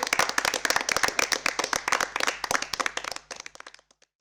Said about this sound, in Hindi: तालियों से एक बार अभिनंदन अपने लिए भी कीजिए।